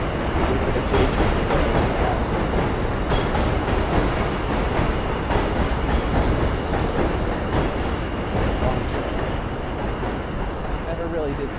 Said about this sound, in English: The J train.